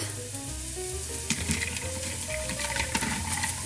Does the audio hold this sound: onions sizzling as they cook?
yes